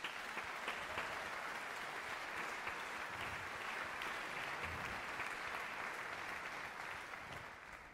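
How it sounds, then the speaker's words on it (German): Steady, moderately distant applause from a jazz concert audience, even and sustained throughout with no voices, easing slightly toward the end. "Ich würde mal sagen, einen Applaus"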